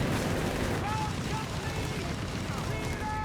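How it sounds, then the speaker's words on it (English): A bombing artillery strike in the strategy game Company of Heroes 3 fills the scene with a dense, continuous roar of overlapping explosions and rumbling blasts that stays loud from start to finish. "Do get a bombing artillery strike called in here."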